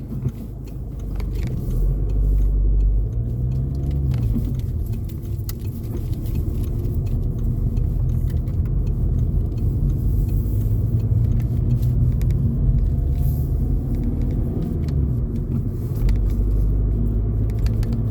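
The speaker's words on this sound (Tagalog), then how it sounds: "Busy ngayon ang kalsada." Busy road traffic passes as a steady, loud, low rumble of engines and tyres, continuous and even throughout, with no voices.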